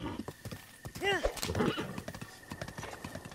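A horse in The Legend of Zelda: Breath of the Wild gives a clear whinny midway, surrounded by clopping hooves, fairly soft, with a person talking over it.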